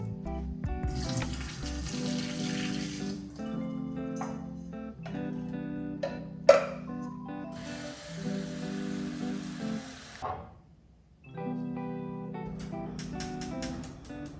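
Water is poured off canned jackfruit and fresh water runs in from a tap. Several bursts of splashing and running water start and stop over the length of the clip, with a low hum between them and no talking.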